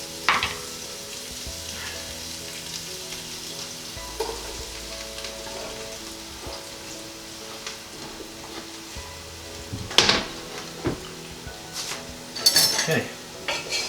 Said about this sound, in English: just get stirring, just move them around the pot so they all get coated in oil